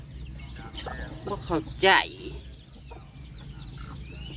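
Chickens cluck in short bursts at a rural Thai home, close and fairly loud, with a few sharper squawks as a person talks over them.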